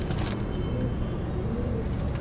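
Pigeons coo steadily at the Parwana Pigeon Club loft, a continuous low, close cooing with overlapping calls and no voices.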